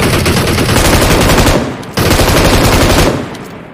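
Loud, close bursts of rapid automatic gunfire in a battle royale video game, two dense sustained volleys back to back with a brief break between them.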